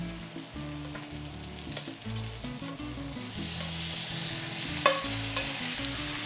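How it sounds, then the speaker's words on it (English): Steak and fajita vegetables sizzle steadily in a hot cast iron pan, a continuous close frying hiss with a few sharp clinks and pops over a low rumble, no voices. "The steak's getting pretty cooked in there, and it's gonna keep cooking in this cast iron as well."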